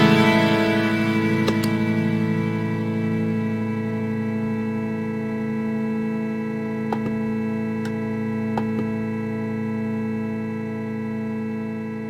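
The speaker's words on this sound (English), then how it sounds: "we can engage the freeze function on a reverb or polyphony preset and have the spillover fade out rather than stay frozen once a new program is loaded" An Eventide H90 reverb pedal holds a frozen, sustained chord of layered tones that slowly fades out. A few faint clicks are scattered through the spillover tail.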